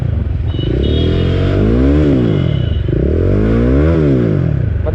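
A BMW G310R motorcycle fitted with an Akrapovic exhaust, its engine loud and close, revved up and down in two smooth rising and falling sweeps over a steady idle rumble, with no talking.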